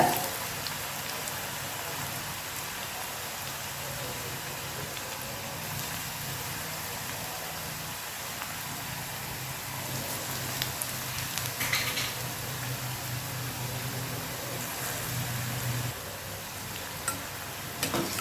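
Small medium-sized balls of gram flour bonda batter frying in hot oil, a steady soft bubbling sizzle running evenly throughout without talk.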